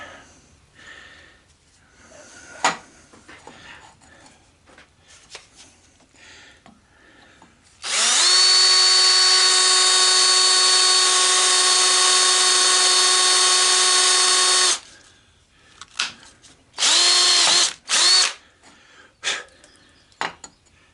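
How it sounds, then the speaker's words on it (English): A power drill bores holes into a hoverboard wheel to free a stuck bearing, one loud sustained whine of about seven seconds followed by two shorter bursts, with faint shop noise between. "drilled one hole there and then come right across from it"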